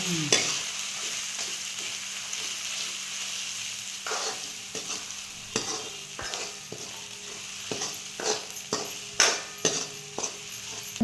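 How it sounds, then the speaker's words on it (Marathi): Green chili paste and turmeric are sautéed in hot oil for a curd kadhi with bottle gourd, a low sizzle broken by repeated sharp spatula scrapes and taps against the pan. "वाटा मिरची. चांगलं परतून घ्यायचं आता."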